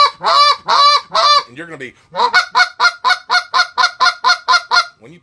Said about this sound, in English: That's going to sound like 2 geese on the ground quarreling back and forth.